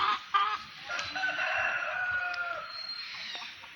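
A rooster crows loudly and close by, with hens clucking around it.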